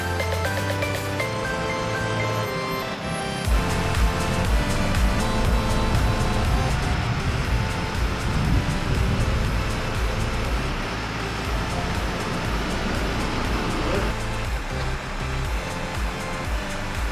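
A Trans Semarang city bus draws up to a stop, its engine rumble and road noise swelling steadily and staying loud and close throughout, with no voices over it.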